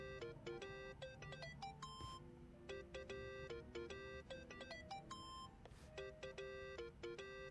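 Mobile phone ringtone in the Yakuza: Like A Dragon video game, a rapid melodic electronic beeping pattern repeating steadily and loudly throughout, with no talk over it.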